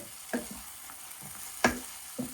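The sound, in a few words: tomatoes with ginger paste frying in a pan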